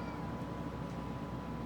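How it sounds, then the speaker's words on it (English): A cat meowing during a Silent Hill 4: The Room game stream, faint and low under a constant droning hum. "Yeah, you heard the cat."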